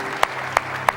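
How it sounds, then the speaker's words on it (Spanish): Three sharp, separate hand claps, evenly spaced and fairly close, ring out in a church service as the congregation is called to applaud, with no voices over them. "Démosle un aplauso fuerte al Rey de Reyes y Señor de Señores."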